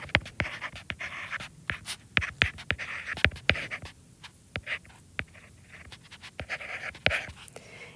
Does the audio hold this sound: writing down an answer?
yes